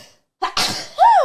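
A single close, sharp human sneeze, with a quick intake of breath before it and a short voiced exhale right after.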